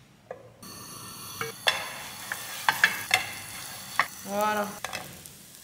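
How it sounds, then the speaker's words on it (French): Country bread fries in a small knob of butter, a soft sizzle punctuated by sharp utensil taps and scrapes against the pan, with a louder sizzling swell near the end; a voice speaks briefly. "Je vais le faire revenir avec une petite noix de beurre."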